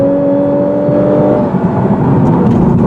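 Loud Lexus RC-350F exhaust in sport mode on a 2018 car, a steady rising engine tone for about a second and a half that then breaks into broadband rushing roar under acceleration.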